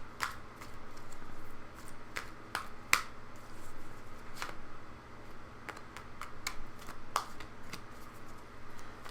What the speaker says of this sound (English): So I'm going to do one more mix of the cards.